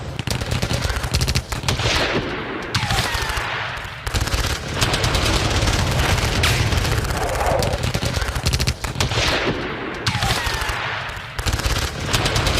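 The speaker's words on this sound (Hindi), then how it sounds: "यूक्रेनी जवानों ने पोस्ट पर कैसे गोलीबारी की" Ukrainian soldiers firing on a Russian military post, loud sustained bursts of automatic gunfire rattling in rapid strings with brief pauses between volleys, harsh and close.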